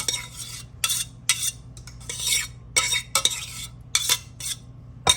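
Broccoli goes into a pan and a utensil stirs it, making bursts of scraping and clattering against the metal with quiet gaps between strokes, close up and without talk.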